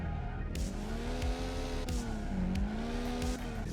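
A car drifts in the Initial Drift Online video game, its engine droning steadily with rising and falling pitch and short tire squeals mixed in, with no one talking.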